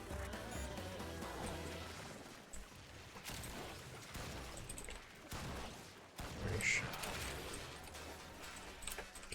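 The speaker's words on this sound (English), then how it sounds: "she's firing her guns" Video game guns fire in repeated bursts of crackling shots, a character unloading her weapons amid busy game sound, with a voice talking over it.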